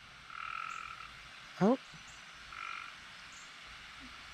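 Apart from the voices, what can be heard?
frog croaking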